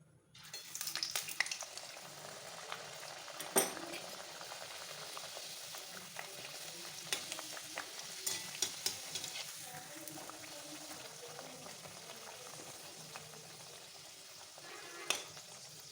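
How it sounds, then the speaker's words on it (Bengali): Palm-fruit luchi, puffed flatbreads made with taal pulp, frying in hot oil in a home kitchen, giving a steady soft sizzle and bubbling throughout with a few light clinks of utensils. "এখানে তেল হয়ে গেছে আমি এবার একটা একটা করে লুচিগুলো ছেড়ে দেবো"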